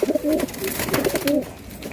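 A pigeon coos close by, a few soft throaty calls in quick succession.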